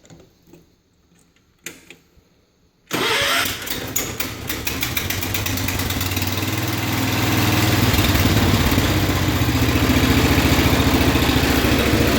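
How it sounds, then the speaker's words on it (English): A John Deere 210 lawn tractor with a Kohler K341 16 HP single-cylinder engine cranks after a quiet pause, catches, and settles into a loud, steady, throbbing idle that builds slightly and holds close. "I'll let you guys hear this thing run."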